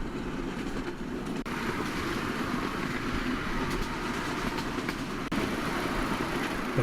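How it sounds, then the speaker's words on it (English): A miniature railway train runs steadily along its track, a continuous close rumble with faint clickety-clack, a couple of brief jolts, and no voices. "I think you're never too well to go on a miniature railway, especially if you like trains."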